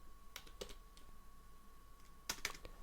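Keys on a computer keyboard click quietly as code is typed, in short scattered bursts with a quick cluster near the end and no talking.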